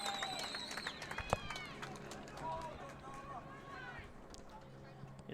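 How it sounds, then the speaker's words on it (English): Home crowd of Villanova fans at a women's soccer match against Xavier, a steady murmur and cheering filling the stadium throughout, with an announcer talking over it and a sharp whistle-like burst near the start. "Listen to the crowd."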